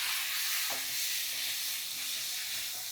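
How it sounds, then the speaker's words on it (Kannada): Raw tomato and brinjal curry being stirred in a pan, a constant soft sizzle and hiss with faint scraping of the spoon, steady and close, no talking. "ಇನ್ನೊಂದ್ಸತಿ ಚೆನ್ನಾಗಿ ಹಿಂಗೆ ಗೋರಾಡ್ತೀನಿ"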